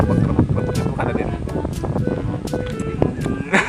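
Outdoor wind buffeting the microphone, a steady rumbling roar throughout with sharp clicks and bumps, while people talk faintly underneath.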